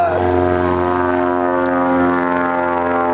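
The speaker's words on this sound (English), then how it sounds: "Sorry about the airplane noise." Steady, droning airplane engine noise overhead at the Van's Aircraft factory, a low propeller-like hum, continuous and fairly loud throughout, with no voices.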